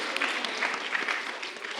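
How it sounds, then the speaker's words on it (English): An audience at an arangetram dance performance claps in a dense, sustained round of applause, loud and close, with no talking. "a huge round of applause for stage crew in the back"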